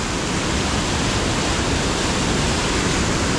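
Water rushes over Daves Falls on the Pike River in Amberg, Wisconsin, a loud, steady, close roar that holds without a break.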